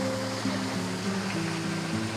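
Water runs down the wooden flume line at Cable Mill in Cades Cove, Great Smoky Mountains, as a continuous rushing, splashing flow with low tonal hums, steady and fairly loud, with no talking.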